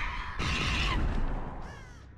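Crows caw in a video game map: two harsh, fairly loud calls, the first longer and the second shorter and fainter, over a low ambient rumble with no talking.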